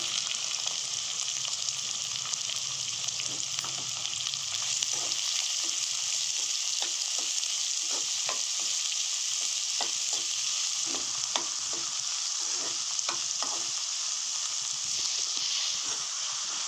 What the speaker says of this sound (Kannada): ಮೆಣಸಿನ್ಕಾಯಿ ಸ್ವಲ್ಪ ಎಣ್ಣೆ ಸ್ವಲ್ಪ ಫ್ರೈ ಆದಮೇಲೆ ಈರುಳ್ಳಿ ಹಾಕೋಣ.